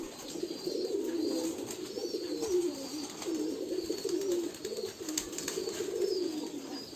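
Several pigeons coo continuously nearby while eating, a low, rolling murmur with overlapping calls and faint background noise.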